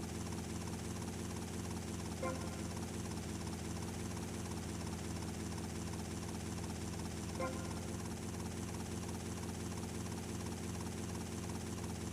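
A helicopter's rotor and engine drone continuously at a steady, even level in GTA Vice City, a dense mechanical whir with no talk, sounding synthetic and game-like.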